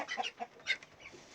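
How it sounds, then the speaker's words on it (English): Chickens clucking close by on a farm where chicks are hatching, a quick run of short, sharp clucks and chirps with brief gaps, fairly quiet overall. "So we actually got some of our chickens hatching right now."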